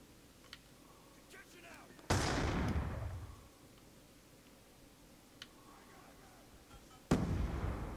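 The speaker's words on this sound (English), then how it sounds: "I can hear the shock grenade" Two loud, booming blasts of a shock grenade in Call of Duty Black Ops 2, during a Team Deathmatch on the Slums map. They land about five seconds apart, each decaying over roughly a second above low, steady battlefield ambience.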